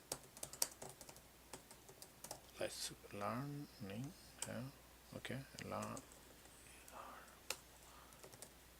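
Clicks of typing on an unfamiliar new computer keyboard while entering student details into a prototype application, scattered sharp keystrokes with someone talking over and between them.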